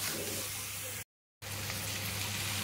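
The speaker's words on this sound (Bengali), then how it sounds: "এবার একটু ভালো করে মশলাটাকে ভেজে নিতে হবে।" Spices sizzling and frying in a pan while cooking dry chilli chicken with burnt dried red chillies, a steady close hiss with a brief silent break partway through.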